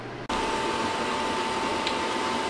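A steady mechanical whir with a constant hum from a computer running a RIP beside a DTF printer, starting abruptly after a brief moment and continuing unchanged.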